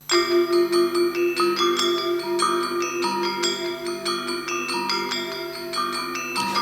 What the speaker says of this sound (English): Alongside that would be the interlocking texture on the gangsa,